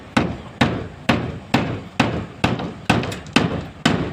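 Steady hammer blows land about twice a second, nine sharp strikes in an even rhythm, close by and fairly loud.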